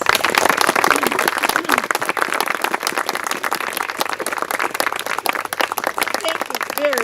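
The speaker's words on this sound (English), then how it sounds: "Please give them a round of applause." A crowd at an outdoor garden dedication ceremony claps for honored volunteers, brisk individual hand claps forming a lively, moderately loud round with some voices underneath.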